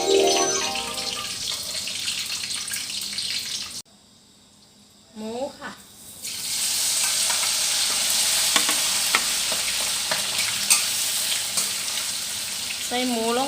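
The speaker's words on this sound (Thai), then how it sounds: "ปลาหมึกแห้งทอดนะคะเนาะ" Dried squid frying in hot oil in a Thai home kitchen, a steady loud sizzle that drops out briefly with a couple of short chirpy sounds, then resumes and carries on with occasional stirring clinks.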